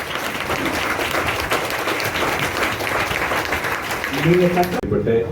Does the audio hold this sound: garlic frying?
no